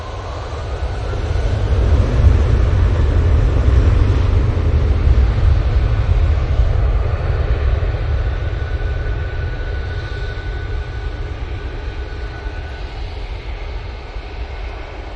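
An airliner departing Manchester Airport for Chania roars steadily with a broad, deep engine rumble that swells early and then slowly fades as it climbs away.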